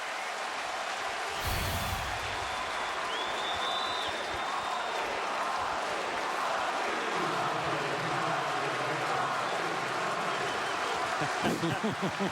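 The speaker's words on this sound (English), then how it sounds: "Crowd chanting Javi, Javi." At a Cardinals at Cubs baseball game in August 2016, the stadium crowd chants a player's name, "Javi." The broad crowd roar stays steady throughout, with rhythmic chanting rising out of it, and a commentator talks over parts of it.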